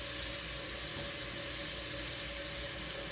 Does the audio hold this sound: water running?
yes